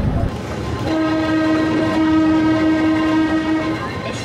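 A Kurobe Gorge Railway train departing Unazuki Station, a loud sustained horn tone held for several seconds over the steady rumble and rolling clatter of the moving train, close by.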